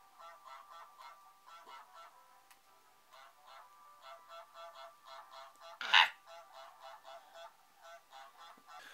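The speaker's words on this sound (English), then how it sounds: "you can honk at him" Repeated honks from the goose in Untitled Goose Game, a rhythmic series of short nasal calls over several seconds with one louder, harsher honk in the middle, heard alone without talk.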